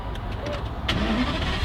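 A car engine is started with the key, a brief cranking followed by the engine catching near the end, heard close by with no talk.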